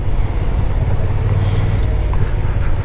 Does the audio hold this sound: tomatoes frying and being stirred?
no